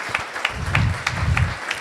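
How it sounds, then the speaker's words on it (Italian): Audience applause welcoming a student guest at a community women's association event, a short burst of steady clapping from a seated crowd, moderately loud and without speech. "voglio accoglierlo con un applauso."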